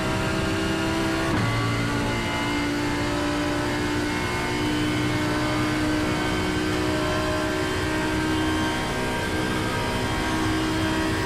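An Audi R8 Evo 2 race car in iRacing accelerates hard down a straight on the Nürburgring, its engine note climbing after a shift and holding a loud, sustained roar with no talk.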